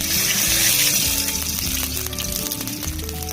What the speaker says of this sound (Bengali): দিয়ে দিচ্ছি শুকনো লঙ্কা ফোড়ন, তেজপাতা,